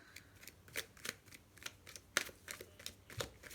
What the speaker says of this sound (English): Sometimes the shuffling just takes a moment.